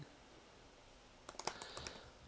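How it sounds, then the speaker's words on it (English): Keys tapped on a MacBook Pro 2018 laptop keyboard: a quick burst of about eight close, crisp clicks after a quiet, hissy lead-in. "This is me typing"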